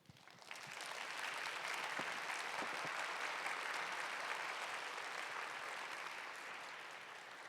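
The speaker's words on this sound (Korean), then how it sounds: "사랑의 마음을 담아 큰 환영의 박수 부탁드립니다" Church congregation applauding in welcome of a new minister, a broad sustained wash of clapping that swells quickly and holds steady, slightly distant in a large hall.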